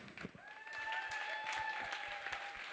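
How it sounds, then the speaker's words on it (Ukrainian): Concert audience applauds after a performance of Crimean Tatar music, a dense, steady ovation with a sustained tone ringing through it. "Оплески голосні, давайте так."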